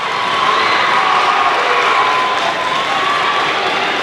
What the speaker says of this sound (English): Now this crowd will get really loud